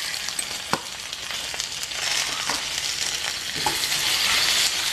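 Coriander powder, chilli powder and a little sugar sizzle steadily in a pan for Bengali shukto, with occasional sharp scrapes and taps of a spoon as the mixture is stirred, growing slightly louder toward the end.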